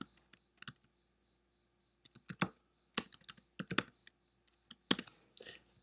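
Fingers type on a computer keyboard in close, quiet, irregular bursts of clicky keystrokes separated by short pauses.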